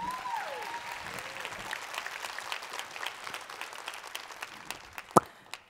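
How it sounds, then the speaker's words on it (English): Audience applause at a panel event on indigenous youth activism, a sustained steady patter of many hands clapping, with a few voices calling out early on and a sharp whistle near the end as the clapping fades. "Please clap it up for Casey, who will join the stage soon."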